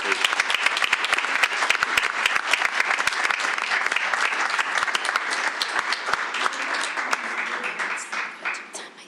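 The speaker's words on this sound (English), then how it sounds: "let's give a big round of applause to these two" Loud, dense clapping from a school board meeting audience honoring two students, sustained for several seconds before tapering off at the end.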